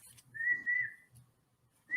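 A single person whistles the opening notes of the simple nursery tune Mary Had a Little Lamb, clear and fairly close, with faint low room noise beneath the melody.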